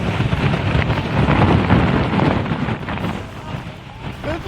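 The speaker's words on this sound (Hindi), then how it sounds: "यहाँ पर तेज हवाएं जिस तरीके से चल रही है" Strong cyclone winds of Cyclone Biparjoy roar at Dwarka, a loud, continuous gusting rush buffeting the microphone, rising and easing in waves.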